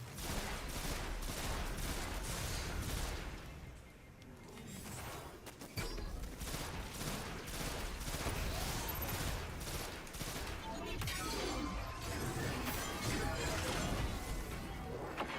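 Sustained video-game gunfire as a player pours many bullets into a tough enemy, dense rapid shots and impacts running continuously at full loudness with a brief dip near the middle.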